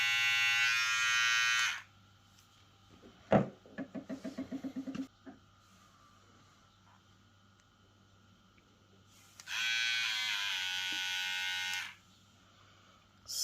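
A Pritech PR 2212A electric hair trimmer buzzes loudly for a couple of seconds, cuts off, a few clicks and rattles follow, then the trimmer whirs again.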